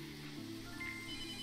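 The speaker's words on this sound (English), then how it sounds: "I hear the phone ringing" Phone ringing in the Bakery Tycoon video game: a short, faint electronic ring tone with steady pitched tones over quiet game background.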